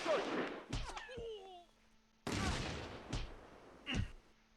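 Gunfire and grenade blasts in Close Combat II, several sharp cracks and bursts in irregular bunches, with game voices calling out between shots.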